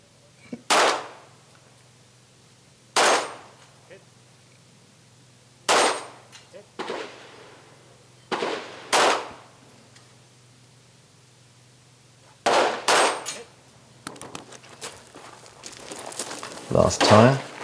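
Loud, close gunshots at a shooting competition, single sharp bangs at irregular intervals with a quick double shot near 9 and 12.5 seconds, separated by quieter metallic clicks and handling noise of reloading, ending in scattered knocks.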